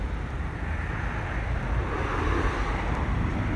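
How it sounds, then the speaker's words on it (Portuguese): Strong wind blowing outdoors in a city centre, a loud, steady broadband roar buffeting the microphone for several seconds with no voices. "Hoje tá ventando pra caramba aqui."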